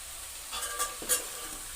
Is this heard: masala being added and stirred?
yes